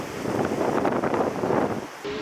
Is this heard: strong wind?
yes